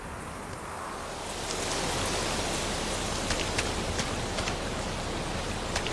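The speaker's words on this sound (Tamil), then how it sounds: "மழை ரொம்ப அதிகமா பெய்யுது." Heavy rain pours steadily in a dense, even hiss that thickens after the first second, with scattered sharper drops spattering on surfaces throughout; no voices.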